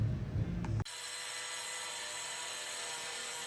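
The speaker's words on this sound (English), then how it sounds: "they're actually cutting the top portion of the frame 12 inches long, about a 1/4 inch thick" A power cutting tool slices through the top of a steel frame on a one-ton Chevy C3500 dually truck, the frame about a quarter inch thick. The cut starts abruptly and continues loud and steady, with no talk.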